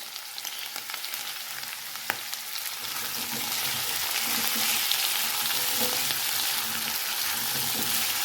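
Ginger chili paste frying in a pan, a loud, continuous hiss of sizzling that swells and thickens partway through, with a sharp tap near the start and no talk.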